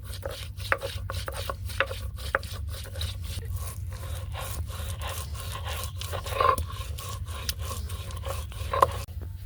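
A mixer grinder whirs steadily, grinding cashews, poppy seeds and white pepper into a paste for chicken biryani. The motor drone runs continuously, with rhythmic rasping pulses from the blade and jar and no talk.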